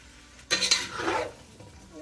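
A spoon stirs green beans in a pan, seasoned with garlic powder and onion powder and cooked with butter: a sudden scraping, clattering burst of stirring that fades within about a second, with no one talking.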